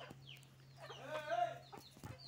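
Desi chickens on a farm cluck close by while they eat, a few short, soft clucks over a quiet, damp morning.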